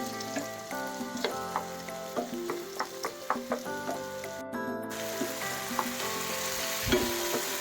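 Chopped fresh tomatoes frying in a pan for sweet and sour fish, a steady soft sizzle with repeated light scrapes and taps of a spatula stirring, close and moderately quiet, no talking.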